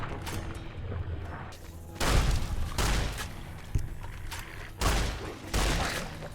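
Shotgun blasts from Fallout: New Vegas come as several heavy booming shots in separate bursts, each dying away in a short rumble, loud and close, with no talk between them.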